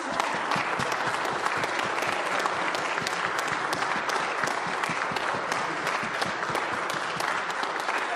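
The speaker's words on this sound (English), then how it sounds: "Yeah, you can clap for them" A crowd claps for performing artists gathered for a stage finale, a thick, continuous wash of many hands at an even, sustained loudness, with no talking above it.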